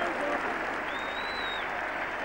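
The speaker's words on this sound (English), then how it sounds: "And the Australian team too generous in their applause for Bob Woolmer." Cricket crowd at Old Trafford applauding as an England batsman is dismissed during an England v Australia Test match in 1977, a steady, distant wash of clapping under broadcast ambience with a faint whistle-like tone in the middle.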